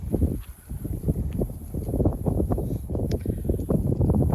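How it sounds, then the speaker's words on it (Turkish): Steady wind buffets the microphone with a low, rumbling roar that rises and falls in gusts, with no voices. "Biraz hava rüzgarlı gibi."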